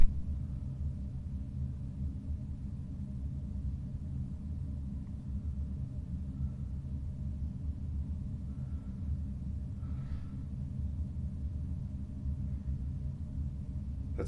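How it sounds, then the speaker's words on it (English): Prison air conditioning and heating system hums steadily: a low, constant droning rumble with no breaks, faint and even throughout, with only a tiny higher blip partway through. "Is that constant humming from the air conditioning system and the heating system."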